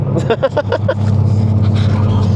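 Dodge Charger R/T engine roaring loudly at high RPM from inside the car, a deep steady drone with rapid pulsing bursts early on, and a voice talking over it.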